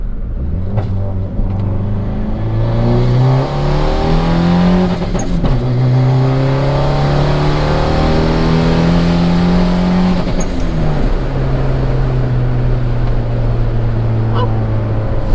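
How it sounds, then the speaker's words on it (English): A turbocharged Honda Accord pulls hard in second gear, its engine roaring loudly as revs climb repeatedly, with brief pauses at each shift or limiter point before rising again. "let's see if we can do a quick pull, guys. A little second gear."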